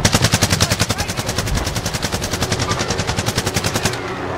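Rapid automatic gunfire from a first-person shooter video game during a team match, loud and close, a fast steady burst of evenly spaced shots that stops abruptly near the end.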